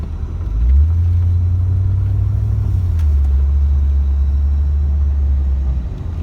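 A 1990 Corvette C4 drives along the road with a loud, steady low engine rumble that rises briefly early on, then settles into a constant drone heard from inside the car.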